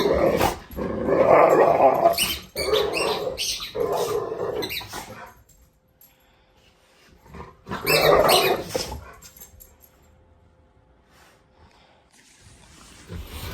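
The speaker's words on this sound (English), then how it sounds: "The dogs are crazy." Dogs, one part husky, growl and bark in rough, rumbling bursts, fairly close and loud, with quieter gaps between the bouts.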